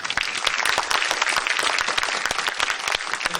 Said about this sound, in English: let's give our speaker one more round of applause.